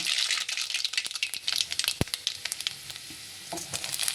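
Urad dal, mustard seeds and cumin spluttering in about five tablespoons of hot oil in a kadai, a steady crackling sizzle with sharp pops, one loud crack near the middle, no talking.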